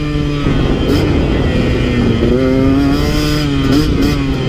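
A KTM 150 XC W two-stroke dirt bike engine revs hard and continuously while being ridden, its pitch rising and falling as it holds gear, loud and close throughout with no talk.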